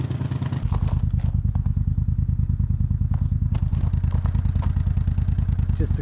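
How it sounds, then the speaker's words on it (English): A Gator utility vehicle engine idles outdoors while warming up, a loud, steady, close-up pulsing chug with a light mechanical clatter, after a brief rumble at the start. "let's get this gator warmed up"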